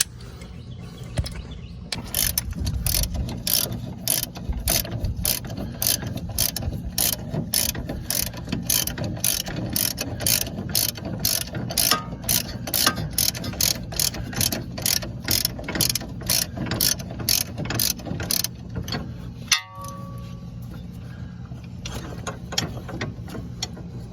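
A ratchet wrench loosening a 14 mm suspension arm bolt on a second-generation Mazda 6 during strut replacement, rapid steady clicking close up for about twenty seconds, with a short break near the end.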